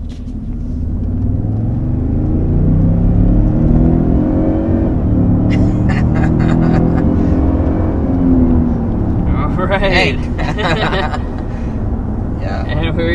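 A 2023 Toyota Sequoia Capstone hybrid with 437 horsepower climbs a gentle hill, its engine giving a steady low rumble and road drone throughout, with people talking inside the cabin over it.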